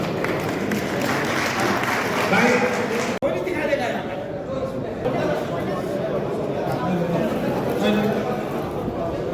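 A crowd claps at a BJP welcome ceremony honouring a district president and senior party workers, with dense applause over the first few seconds that gives way to murmuring chatter and talk.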